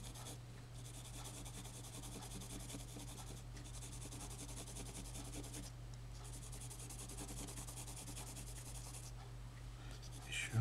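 Very soft pencil drawing on paper, continuous rubbing and scratching strokes with short pauses between passes, close and quiet over a steady low electrical hum.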